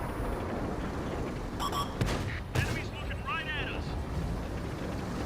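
Tank cannon shots in a tank combat video game, two sharp booming blasts a fraction of a second apart, followed by ricochet-like whines over a constant engine rumble.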